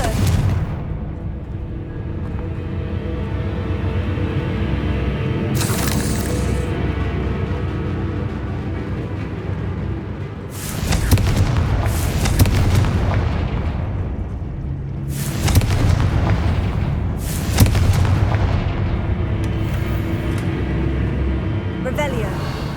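Confringo fire spell blasts go off in the Hogwarts Legacy video game, with several booming explosions landing over a continuous rumble of game noise. A voice speaks at times during the clip.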